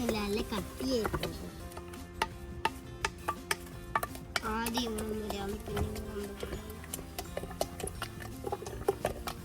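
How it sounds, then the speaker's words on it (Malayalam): Grapes and sugar stirred together for homemade grape wine give a close series of light clicks, taps and scrapes against the container, with a voice talking over them. "ഈ പഞ്ചസാര അലിയണം, അതുവരെ നമ്മളിത് ഇളക്കണം."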